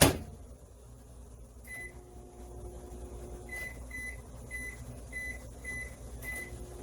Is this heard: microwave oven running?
yes